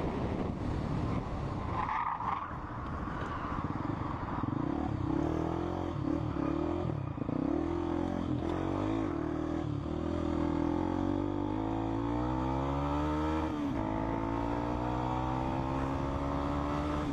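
A motorcycle and a car in a chase, engines whining and rising in pitch over heavy wind buffeting, tones sliding up and down as the vehicles speed and swerve.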